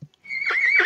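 A single horse neighing, a short high whinny rising after a brief thump, close and fairly loud with no talking.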